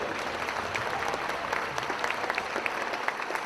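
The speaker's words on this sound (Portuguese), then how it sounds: "Vamos aplaudir ao Senhor, queridos." A congregation at a Christian military congress in Brazil claps steadily, a soft, distant patter of many hands filling the room without voices on top.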